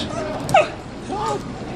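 A dog gives short yips and a whimpering whine indoors, with a person speaking over it during a brief, close exchange.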